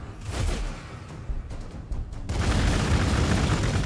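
Booming explosions and bursts of gunfire roll through a Warhammer 40k Gladius battle, with dense rumbling impacts swelling louder toward the end and no talk over them.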